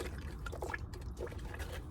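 Carrots are wiped with water in a van kitchen, soft close wet rubbing and light splashing in short irregular bursts.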